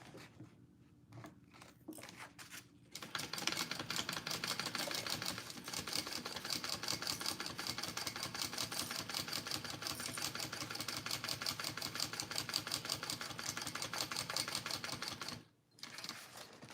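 A sewing machine runs fast and steadily, stitching fabric edge to edge for a clutch bag, a rapid even chatter that starts after a few brief bursts and pauses once near the end.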